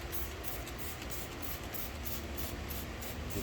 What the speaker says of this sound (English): we're going to take some CarPro Hydro 2 light spray and rinse ceramic sealant